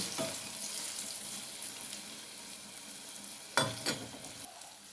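Banana pieces coated in ragi flour fry steadily in hot oil, a continuous close sizzle and crackle with a brief louder burst of spattering near the end.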